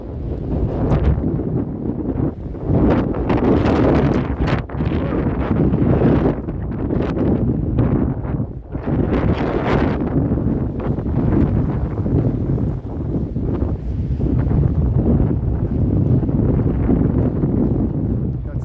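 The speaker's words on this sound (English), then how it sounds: "Major wind happening here." Strong gusty wind roaring across the microphone during a snowstorm on a downtown Toronto street, loud buffeting rumbles that rise and fall continuously throughout.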